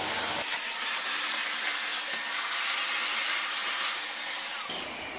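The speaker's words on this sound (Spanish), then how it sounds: "vamos a pasar la aspiradora para quitar el polvillo ese" A steady, loud broadband roar of a vacuum cleaner picking up fine dust indoors runs continuously, starting abruptly and cutting off near the end.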